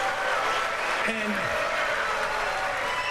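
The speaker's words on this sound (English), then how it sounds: "That's a big clap for an anti-Trump talking point." A debate audience applauds in a steady, loud wash of clapping that fills the whole stretch, with a brief low tone sliding down partway through.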